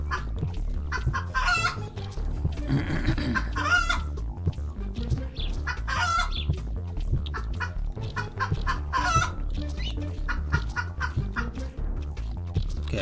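A cartoon chicken in the video game Superbugs: Awaken clucks steadily and close up, with repeated squawks and bursts of cackling over a constant low game hum.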